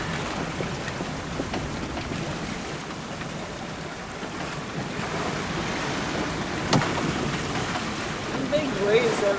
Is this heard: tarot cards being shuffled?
no